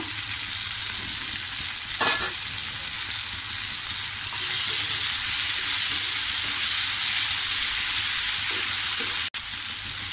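Green chillies and cashew paste frying with softened tomato in a pan for mushroom matar masala: a loud, steady close-up sizzle with a few light stirring scrapes and one sharp knock near the end, no voices.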